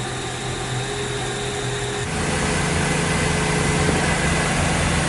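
A boat engine drones steadily, rising from 600 to 1100 RPM partway through and then holding a louder, denser running tone.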